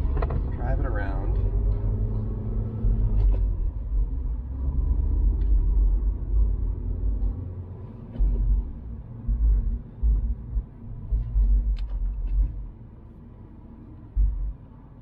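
A 2015 Mini Cooper S F56 drives along with a steady low engine and road rumble close by, while a voice talks over it.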